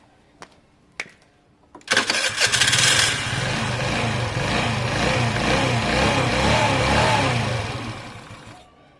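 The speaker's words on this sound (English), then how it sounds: "I believe it's unflooded now, it should fire up." A moped engine, just cleared of flooding, gives a couple of sharp clicks, then fires and settles into a loud, steady, slightly uneven low idle that runs for several seconds before fading near the end.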